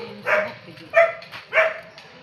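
Dogs on a village outing bark three times in quick succession, sharp and fairly close, with short pauses between the barks.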